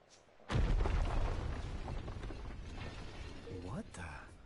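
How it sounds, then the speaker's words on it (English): A loud sudden explosion in the video game Ni no Kuni 2, starting with a heavy boom and a long rumbling, crackling decay, with speech over it near the end. "Was that an explosion?"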